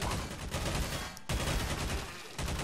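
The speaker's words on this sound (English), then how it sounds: "Monsters are still shooting at him." Rapid bursts of gunfire from monsters, the Scorn creatures battling sentries and marines at Hawkins Lab in Garry's Mod, crackle loudly and almost continuously, broken by one short pause.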